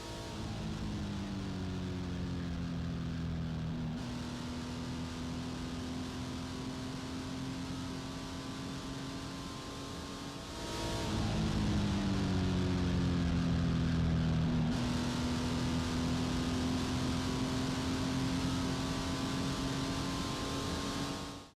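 A car takes turn 9 at Willow Springs at speed, a steady loud engine tone that bends down and up through the corner, drops briefly, then pulls hard again, with no talk over it.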